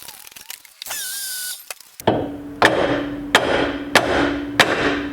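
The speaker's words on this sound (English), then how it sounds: "We're going to put a nut on it and tap it with the hammer." Four sharp metallic hammer taps on a nut threaded onto a bolt during a Kia Stinger GTS front wheel bearing hub replacement, spaced about a second apart, each ringing briefly, close by, after some shuffling and a brief whirring noise.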